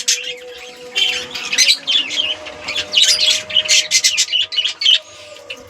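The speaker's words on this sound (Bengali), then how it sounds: "এখানে আছে আমাদের লাভবার্ডটা" Pet lovebirds and other caged birds call busily at close range, bursts of shrill chirps and squawks repeating throughout over a faint steady hum, with no talk.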